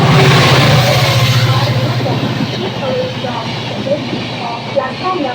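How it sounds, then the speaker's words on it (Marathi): A fast Indian Railways train rushes past a station platform, a loud, steady roar with rhythmic wheel clatter that slowly fades, while a platform announcement voice carries over it. "fast train is passing."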